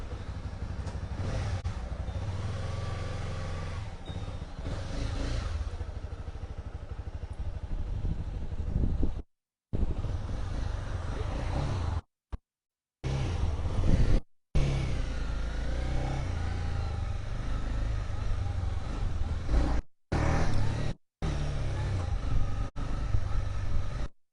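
A 2018 Honda CB300R motorcycle engine revs and accelerates away, loud and rumbling, with the sound cutting out briefly several times.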